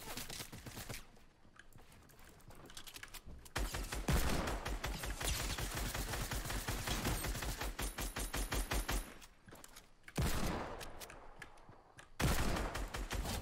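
Rapid automatic gunfire from a gold SCAR assault rifle in the video game Fortnite, long loud bursts of repeated shots with brief pauses between volleys.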